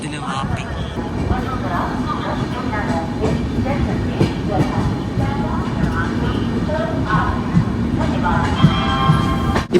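The Bandra - Jaisalmer Super Fast Express train runs, heard from inside as a steady loud rumble with faint rail clatter, while people talk over it.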